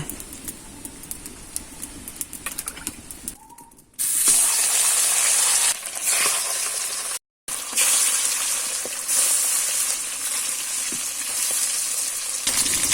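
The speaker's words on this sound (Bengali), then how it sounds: "এখন তেল দিয়ে মাছটা ভেজে নিব।" Fish frying in oil in a kadai for a Bengali fish curry, a loud steady sizzle and spatter that starts abruptly after a quieter opening, breaks off briefly, then carries on strongly to the end.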